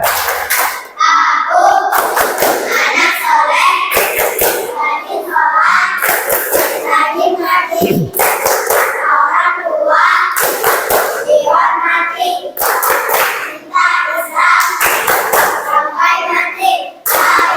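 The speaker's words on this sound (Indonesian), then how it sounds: "cukup tepuk 1, tepuk 2, tepuk 3. Oke, tepuk anak soleh." Children in a classroom chant together while sharp claps land in a steady rhythmic pattern, bursts of clapping repeating between the voices, loud and close.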